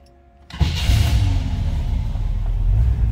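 A 1964 Chevrolet Nova engine cranks and fires after a brief quiet moment, settling into a loud, steady low rumbling idle up close.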